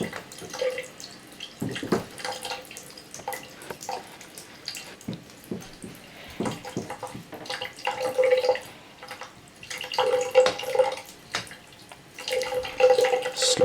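Hot water from a tap runs and splashes over a waterproof Sony Xperia Z2 phone, an uneven close trickle that surges and drips in bursts.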